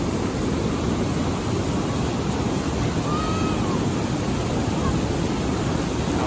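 Steady broadband rush of water flowing during a roof test on a newly built house, continuous and fairly loud throughout, with faint voices underneath.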